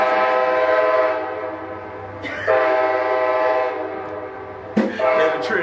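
A train rolls past close to a house, its horn blaring in long sustained blasts that break off and resume, with a sharper burst near the end, loud and near.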